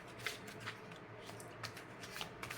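Tarot cards shuffled by hand in a close, quiet setting, giving a steady soft riffling with several sharper snaps and flicks spread across a couple of seconds.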